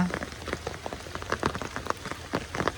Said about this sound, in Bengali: সারাদিনই বৃষ্টি হচ্ছে আজকে, একেবারে প্রচুর পরিমাণে বৃষ্টি।